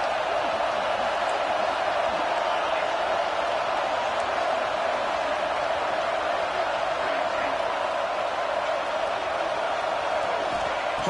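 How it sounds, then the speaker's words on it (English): A home crowd at a UCLA college football game roars steadily on fourth down, a dense, loud wash of cheering that holds unbroken throughout. "Home crowd trying to make a difference on 4th down."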